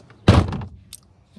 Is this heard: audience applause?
no